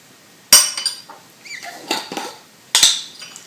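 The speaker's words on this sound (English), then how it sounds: "Now we will add from our 1/3 of a cup of sugar, we will take 1 teaspoon." A metal teaspoon clinks sharply against a dish while scooping sugar, two bright strikes with lighter scraping and tapping between them, close and clear with no talking.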